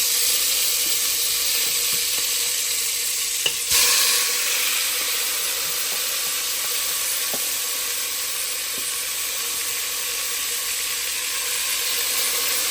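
Marinated chicken frying in a mix of ghee and oil for biryani, a steady bright sizzle throughout with a sharp clack near the start and faint occasional stirring, no speech.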